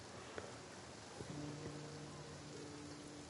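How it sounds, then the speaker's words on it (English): Steady rain patters softly and evenly in the video game Genshin Impact, with a few faint tonal sounds drifting in over the quiet downpour. "It's raining."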